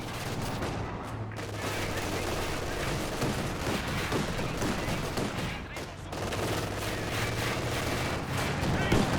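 Gunfire from the World War II strategy game Company of Heroes 2 crackles in dense, overlapping volleys and bursts, fairly faint and continuous, with a commentator talking over the battle.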